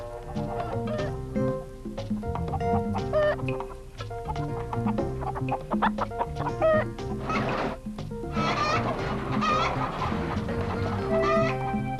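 Chickens cluck and squawk steadily at close range, with several birds calling over one another and no pauses.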